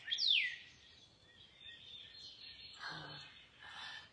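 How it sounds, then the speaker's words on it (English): Outdoor birdsong on a spring morning: a bright descending whistle near the start, then thin sustained calls and a few chirps further off, with faint breathy sounds in the background. "I love all the bird song."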